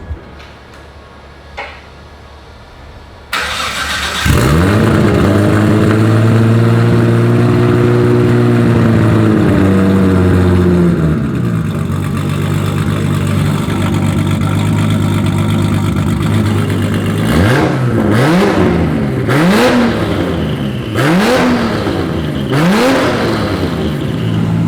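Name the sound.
BMW E92 car engine with axle dump exhaust starting and revving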